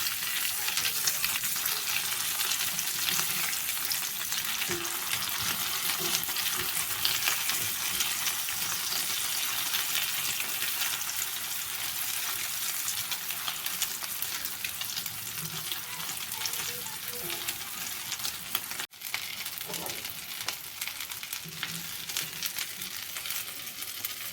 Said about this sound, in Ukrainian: Підсмажені з одного боку відбивні перевертаю на інший бік